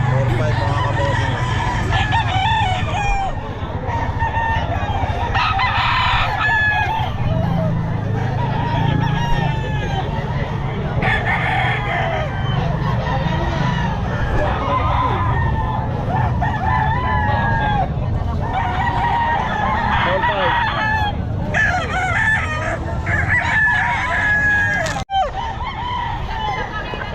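Several roosters at a pet market in Bocaue crow repeatedly, some near and loud, others farther off, over clucking and a busy crowd murmur with people talking.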